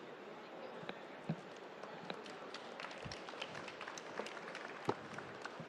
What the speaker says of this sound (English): You guys are getting a little tired of clapping.